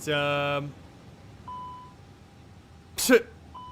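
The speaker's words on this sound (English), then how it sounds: "I don't even know where to silence these alarms." Cockpit warning alarm after an engine failure in Microsoft Flight Simulator 2024: a loud rapid harmonic beeping burst opens, followed by a faint sustained tone and a sharp clattering hit near the end.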